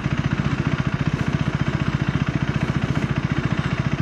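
A KTM Adventure 390 single-cylinder engine chugs at low RPM with the clutch fully released, a loud, close, steady rhythmic thumping pulse with no talk.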